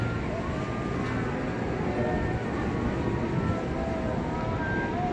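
A constant low rumble and hum fills the whole stretch as a KRL commuter train moves through Manggarai Station, with faint higher tones drifting above.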